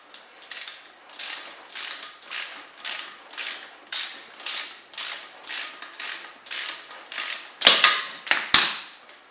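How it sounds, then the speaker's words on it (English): Small impact gun working an 18 mm strut nut on a 2015-2018 Jeep Cherokee KL, heard close as a string of rhythmic rattling bursts, then two louder, harsher blasts near the end. "Faster with a little impact gun."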